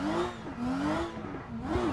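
Simulated race car engine revving hard through aggressive downshifts in a Supra Pro car racing sim, a continuous loud whine with rising and falling pitch sweeps as gears drop.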